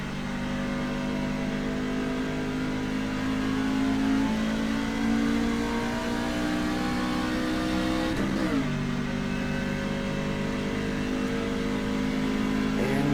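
Race car engine in iRacing droning loud and continuous through a lap, pitch climbing and dropping with gear shifts and a sharp downshift midway, heard alone without talk.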